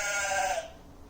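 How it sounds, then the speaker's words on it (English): A recorded sheep bleat from a children's farm-animal button sound book, a single drawn-out wavering bleat that is loud and close, lasting about half a second and then cutting off to quiet. "Sheep."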